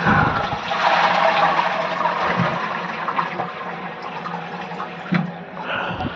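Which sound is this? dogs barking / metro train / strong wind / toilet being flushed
toilet being flushed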